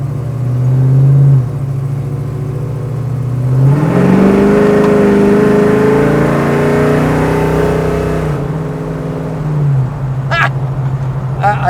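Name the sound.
1970 Chevrolet Chevelle engine revving while accelerating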